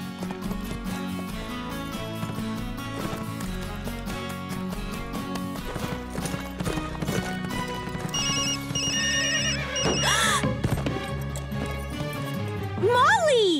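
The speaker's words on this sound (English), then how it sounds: "I programmed a new ringtone for Amber last night. I had no idea it was so loud" Loud cell phone ringtone going off in a horse cartoon, a bright repeating electronic melody rising over background music, followed by people talking.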